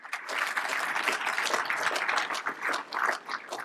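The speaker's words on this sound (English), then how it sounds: "So about a round of applause for those folks this evening." An evening business event audience claps steadily, a dense continuous patter of many hands from a moderate distance that swells and briefly dips toward the end.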